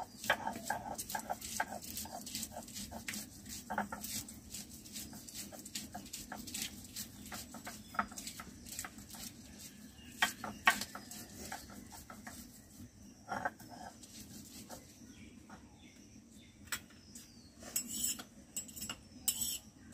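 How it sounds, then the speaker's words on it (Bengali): Green chilies crushed by hand on a grinding stone in a village kitchen, giving a steady run of dull knocks and scraping strokes close by, with birds and faint animal sounds in the background. "কাঁচা লঙ্কাগুলো আমি এখন বেটে নিচ্ছি।"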